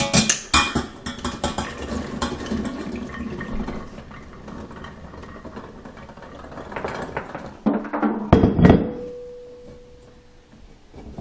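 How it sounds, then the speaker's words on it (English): Vinegar drained off soaked chickpeas, with clattering of beans and a container against a sink, splashing liquid and a run of pouring water, close by and without talk. "Now I'm going to just go ahead and drain the vinegar off of them"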